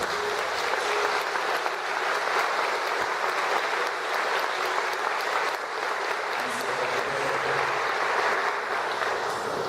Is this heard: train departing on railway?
no